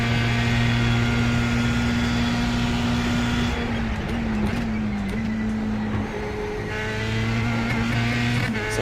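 A Formula 3 race car in the iRacing game at Imola drones at high, near-constant revs while topped out in gear, its steady buzzing engine tone dipping briefly a couple of times before climbing back, loud and continuous.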